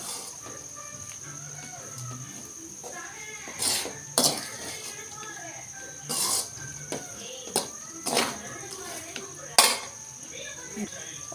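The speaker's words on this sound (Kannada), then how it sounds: "ಈಗ ರೈಸೆಲ್ಲ ಮಿಕ್ಸ್ ಮಾಡಬೇಕು." Rice is tossed and mixed in a pan, with a steady faint sizzle under repeated scraping and clattering strokes of a utensil against the metal pan.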